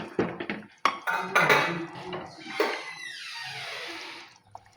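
Fish curry ingredients clatter into a pressure cooker pot, with sharp metallic clanks and knocks against the pot, a few louder hits, then scraping and a softer wet settling that fades out.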